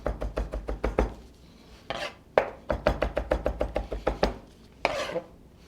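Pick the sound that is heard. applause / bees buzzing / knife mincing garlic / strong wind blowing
knife mincing garlic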